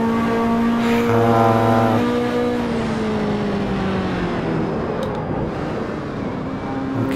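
Ferrari race car engine in the sim game Assetto Corsa, a loud, continuous high-revving drone that shifts pitch as the car accelerates and slows, with no talking over it.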